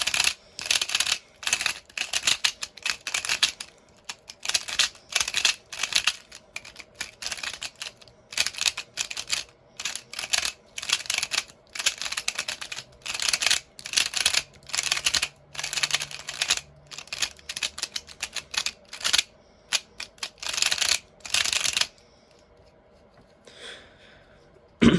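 A Pyraminx puzzle turned rapidly by hand, giving dense runs of sharp plastic clicks and rattles that come in quick bursts with brief pauses, close and fairly loud, fading to near quiet at the end.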